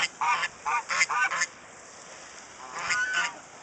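A goose honks in a rapid series of harsh, nasal calls, several close together, then a short pause before two or three more, fairly near and with no talking over it.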